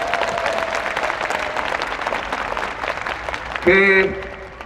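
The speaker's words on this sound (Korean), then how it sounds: "일단 여러분 호의한테 박수 한번 부탁드리겠습니다" A hall audience at a parliamentary audit hearing gives a round of dense applause that gradually thins out, followed at the end by a brief sharp tonal burst, likely a microphone feedback squeal.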